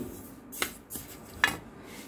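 Sesame seeds for laddu being dry-roasted in an iron pan, with a few sharp scrapes and clinks of a metal spoon against the pan over a quiet background.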